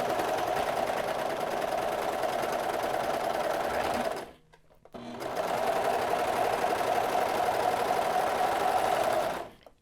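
Brother 1034D serger stitching fabric, a rapid even mechanical whir running continuously for about four seconds, a short pause, then resuming for another five seconds before stopping.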